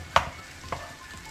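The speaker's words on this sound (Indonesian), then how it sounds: "Kita aduk kembali sampai rata." A spatula stirs seasoned village-style fried rice in a hot pan, two quiet scrapes about half a second apart over a faint steady sizzle, with no voices.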